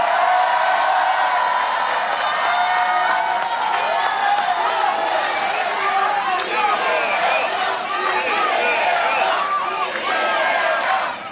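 Loud, sustained applause from a large crowd at an outdoor political campaign rally in Pohang, South Korea, dense clapping that continues steadily throughout without pause.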